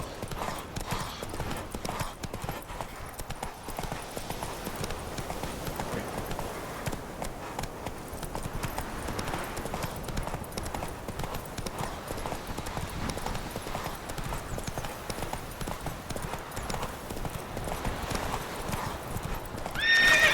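Horse Roach gallops at a steady clip-clop in The Witcher 3, rhythmic hoofbeats running continuously and fairly loud, with an occasional whinny and game ambience underneath.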